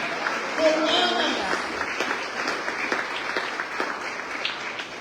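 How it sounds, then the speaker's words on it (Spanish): A church congregation applauds during a Wednesday worship service, a dense, steady wash of clapping running throughout with a few voices and shouts mixed in. "si le va a aplaudir, apláudale al rey con ganas"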